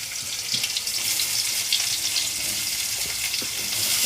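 Onions frying in hot oil in a pan, a steady bright sizzle and crackle that runs unbroken and fairly close, with no talk over it.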